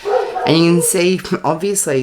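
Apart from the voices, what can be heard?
small dog barking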